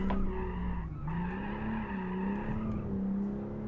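Tires squeal in a long, steady skid as a car brakes hard in the BeamNG driving game, a rear-engined 911-style build with extra grip and camber tweaks, loud and continuous with the engine droning underneath and no talk.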